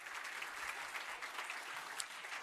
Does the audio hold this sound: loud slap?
no